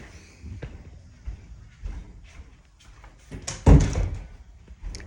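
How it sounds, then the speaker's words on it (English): A door bangs shut with a heavy, close thud near the end, after some softer knocks and rattles in a room, with no talking. "Can't stand banging doors."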